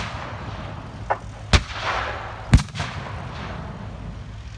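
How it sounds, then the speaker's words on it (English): Two heavy booming shots from British 25-pounder field guns shelling a Normandy village in 1944, landing about a second apart over a steady low rumble, with a fainter report before them; no one speaks. "The 25-pounders pound the village."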